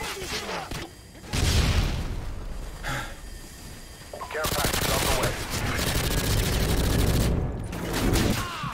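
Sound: gunfire in the video game Modern Warfare 2

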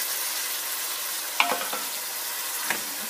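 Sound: chicken frying in a pan

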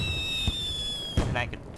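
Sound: fireworks burning in video game Little Inferno

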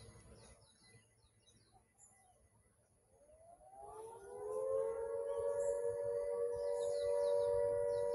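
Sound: sirens, probably a shipyard safety warning

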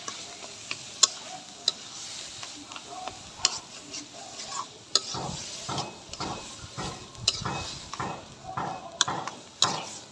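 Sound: stirring taro leaves (kochu shak) frying in a pan

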